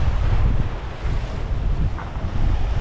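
Strong wind blasts across the microphone on a beach during shore fishing, making a loud, continuous low roar with the muffled wash of surf beneath it.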